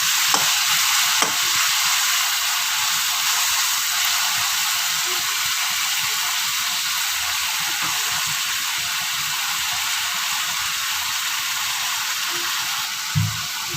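Onion and tomato frying in a pan, stirred now and then: a steady, loud hiss of sizzling oil runs throughout, broken by soft scraping taps of a spoon against the pan.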